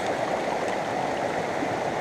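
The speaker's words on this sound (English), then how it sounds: "when you are sluicing, then you can hear the water move in" Water rushes steadily through a gold panning sluice in the UK, a close, continuous broadband gurgle and wash with no breaks for the whole stretch.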